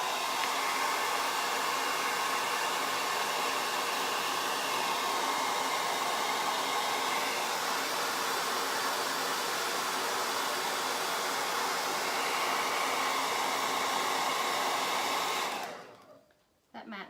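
A hair dryer blows steadily and loudly up close, drying matte acrylic paint on a mason jar. The whoosh holds for about fifteen seconds, then winds down and cuts off.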